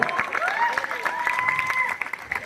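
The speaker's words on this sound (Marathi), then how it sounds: "जोरात टाळी वाजवा एकदम" A crowd at a welcome celebration for a naib tehsildar in Surat applauds continuously, the clapping steady throughout and mixed with a sung or musical line over it.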